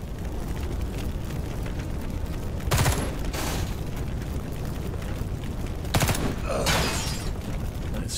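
Bursts of gunfire from the tactical game Xenonauts 2, a few loud sharp volleys standing out from a dense, steady battle noise bed.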